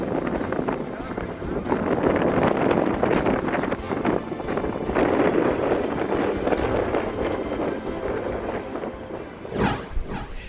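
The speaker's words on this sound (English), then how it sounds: "It has been quite windy today." Strong wind at a skydiving competition, with loud continuous gusting and rumbling across the microphone throughout and someone speaking over it.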